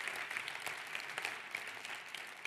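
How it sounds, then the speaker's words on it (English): A congress crowd of European Greens in Dublin claps steadily, a dense patter of many hands, fairly faint and distant, with no talk over it. "give him a big round of applause"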